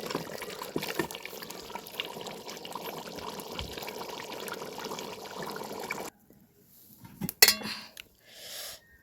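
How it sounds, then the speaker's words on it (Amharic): Water poured into a cooking pot of simmering onion-based tibs stew, a steady close splashing pour lasting about six seconds, then a few faint clinks and quieter stirring noises. "አሁን የሚበቃኝን ያህል ውሃ ጨምሬያለሁ ማለት ነው።"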